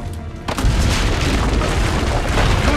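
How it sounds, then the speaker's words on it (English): Cannons fired from a rampart in the video game Assassin's Creed Brotherhood: a sudden heavy boom that rolls into a sustained, loud rumbling blast, with no talk over it. "Use the cannons above the rampart."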